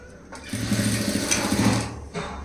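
A sewing machine runs a short burst of stitching to join the sleeve of a blouse, a close mechanical whir rising and then stopping after about two seconds, followed by a brief restart.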